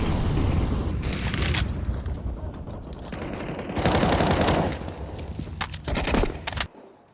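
Gunfire in a Counter-Strike match on the Vertigo map, with loud rapid automatic bursts that swell and cut off repeatedly over steady background game noise, mostly without speech.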